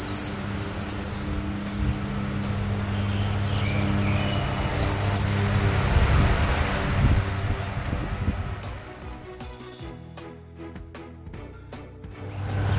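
Birds calling outdoors in the woods in Houlton, Maine, including a few crow-like caws, over a steady wash of wind and rustling ambience.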